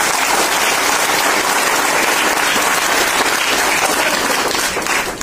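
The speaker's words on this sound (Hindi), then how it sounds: "उनके लिए जोरदार ताली।" Loud, dense applause fills a marketing seminar hall as the audience claps steadily and evenly for the full few seconds, with no talking over it.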